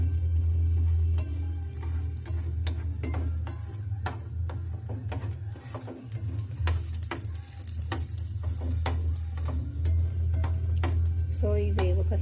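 Nuts and raisins fry in ghee over a low flame for rava kesari, giving a soft continuous sizzle over a steady low hum, punctuated by regular clicking stir strokes in the pan.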